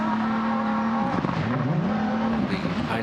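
A Toyota GR Yaris rally car on a forest rally stage: a loud, close engine drone that dips and climbs again as the driver shifts and lifts, with traces of tyre noise on the loose surface.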